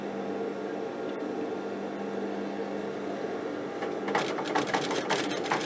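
A sewing machine runs a steady, even hum while stitching down a trouser crotch seam to lengthen the rise, ending in a burst of quick rattling clicks from the needle at close range, with no talking.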